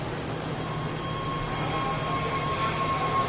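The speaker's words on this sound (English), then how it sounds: "this is Metro Station downtown" A Washington D.C. Metro station downtown fills with a steady rumbling train roar and a thin mechanical whine, continuous and fairly loud throughout with no talking.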